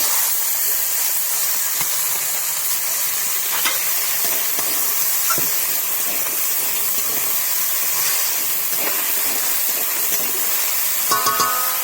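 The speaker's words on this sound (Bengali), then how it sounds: "এই ডুমো ডুমো করে রাখা সাইজের আলু দিয়ে দেবো।" Diced potatoes fry in a pan for a shrimp and bottle gourd dish, giving a steady, close, even sizzle and hiss that runs throughout with occasional light clinks and scrapes.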